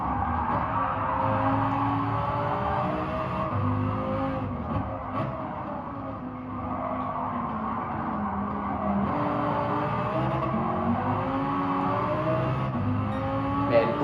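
Race cars roar past at speed in a continuous, loud engine drone with shifting pitch and hints of tire squeal as one car overtakes another.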